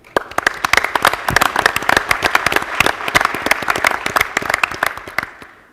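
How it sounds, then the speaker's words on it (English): An audience at an NIADA dealer conference breaks into a steady round of dense applause that holds strong for several seconds and then thins and fades out. "Will you please join me in a round of applause for the NIADA?"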